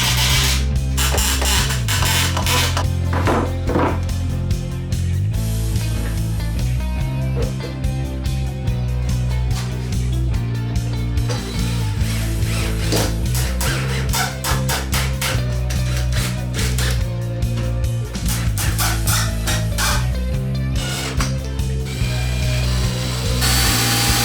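Power tool driving screws into the wooden base of a handmade crate box, a loud, steady run of whirring and grinding bursts with brief pauses, close up and without talk.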